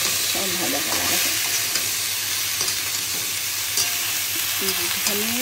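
Drumstick and pumpkin stalks sizzle in a pan with coriander and cumin, a constant near crackle broken by a few stirring scrapes; no one speaks.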